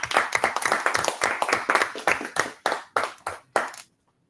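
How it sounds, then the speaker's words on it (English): Another round of applause at a Toastmasters club meeting, with a brisk flurry of claps that thins into scattered, separate hand claps before falling silent. "we're going to give her another round of applause"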